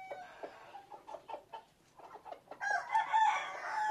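Hens on a chicken farm cluck in a busy, uneven series, with a louder burst of crowing-like calls toward the end; the birds sound close.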